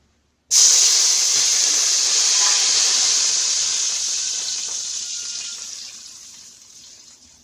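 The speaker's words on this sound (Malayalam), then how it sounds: "ഈ പാത്രത്തിലേക്ക് തന്നെ നമുക്ക് വെള്ളം ഒഴിച്ചു കൊടുക്കാം." Water pours steadily into a cooking pot for vermicelli kesari in one continuous rushing stream, starting abruptly and gradually softening over several seconds.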